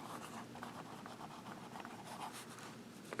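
Lamy Safari fountain pen writing on Moleskine notebook paper, a faint, close scratching of nib on paper in short continuous strokes.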